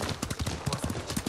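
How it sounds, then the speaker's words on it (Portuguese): Horse hooves clip-clop at a steady riding pace in Ghost of Tsushima, close and clear, with regular paired hoofbeats repeating throughout. "a gente vai fazer o resto do caminho de cavalo"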